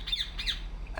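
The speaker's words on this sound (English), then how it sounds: "What the hell's up with that bird?" A bird in the video game Republique squawks repeatedly, three harsh shrill calls in quick succession over a low steady game background hum.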